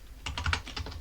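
Quick keystrokes on a computer keyboard while a terminal command is typed, about eight close, crisp clicks in a fast run with no talk.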